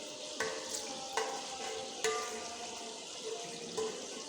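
Chicken for Lahori kali mirch murgh chana frying in ghee, a steady close sizzle broken by several sharp spoon or spatula knocks against the pan, with no talking.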